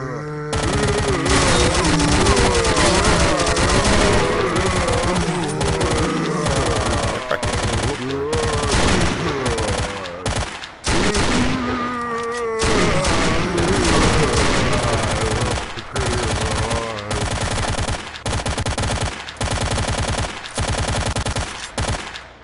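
Sustained machine gun fire in the video game STALKER, loud rapid bursts of automatic shots with brief gaps, close and continuous over a zombie fight, no talking.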